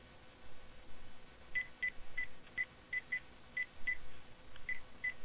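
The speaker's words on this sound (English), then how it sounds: "I can hear him dialing in the background." A run of short electronic keypad beeps, about a dozen evenly spaced tones, sounds faintly over a low background hiss.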